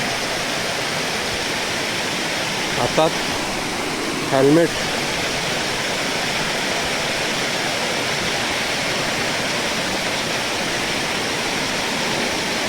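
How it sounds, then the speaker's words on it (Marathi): Water pours over rocky laterite ledges at a hidden waterfall near Panval, Ratnagiri, as a constant loud broadband rush, with a person speaking briefly over it. "हे बघा कुठून कुठून पाणी पडते"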